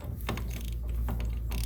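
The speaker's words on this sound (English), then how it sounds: "Sometimes they can be very tight and you have to use a cheater pipe or a breaker bar to get them broke loose." Breaker bar ratcheting against a tight check valve cap on a Cyclone pump, a close mechanical clicking and grinding that runs steadily for under two seconds.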